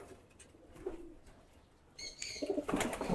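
Giribaz pigeons give soft coos and brief chirping calls, faint at first, then louder with a burst of fluttering and calls near the end.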